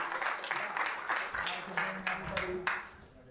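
At a regular city council meeting, the audience breaks into clapping for a person being recognised, with dense applause fading toward the end and speech heard alongside it.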